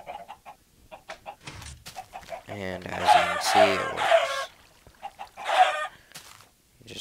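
Chickens on a video game egg farm cluck and squawk in short repeated bursts, some louder calls overlapping a voice explaining the setup.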